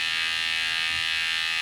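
A steady electronic alarm buzz from an Echoview wireless system instrument, a continuous loud tone holding evenly throughout with no talk over it.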